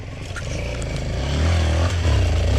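A motorcycle engine revs up loud and close, its low throbbing drone building in strength during a New Year ride between villages, with faint voices behind it.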